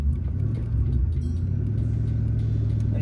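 A manual car's engine rumbles steadily as the clutch is released, giving a low, continuous idle-like drone close by with no talking.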